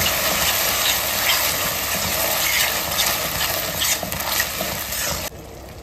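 Chili paste, red chili sauce, soy sauce and tomato ketchup are stirred together for cheesy rice paper dumplings in a close, continuous scraping swirl that stops abruptly near the end.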